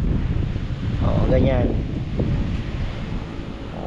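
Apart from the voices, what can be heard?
strong wind blowing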